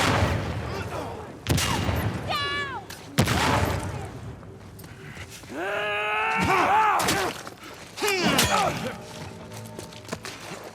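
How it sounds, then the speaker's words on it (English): Gunfire and sharp impacts in the No Return game during a boss fight, several loud hard bangs spread out amid groaning creature-like cries and warbling effects, with a voice now and then. "We're under fire."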